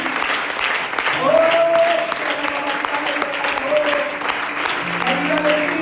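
Loud applause from a church congregation at a prophetic night service, sustained clapping close by with cheers and a voice over it.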